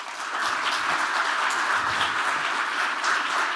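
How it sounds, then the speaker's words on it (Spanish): An audience at a construction summit keynote applauds speaker Alfonso Vergara with an even, sustained ovation of dense clapping that holds at a steady level throughout. "Merecidísimo aplauso a Alfonso Vergara."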